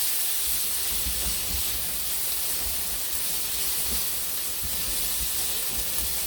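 Onions sauté in a pan with a steady, even sizzle and hiss that holds at the same level throughout, without any speaking.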